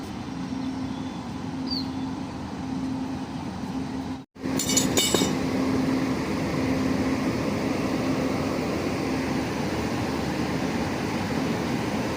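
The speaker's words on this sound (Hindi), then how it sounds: "गाजियाबाद शेड का WAP5 अब हमारी ट्रेन को लेकर के जाने वाला है" Steady rumble of an Indian passenger train on the Najibabad–Kotdwar line, hauled by a Ghaziabad shed WAP5 electric locomotive, heard from inside an empty coach with a constant low hum and a brief metallic clink midway.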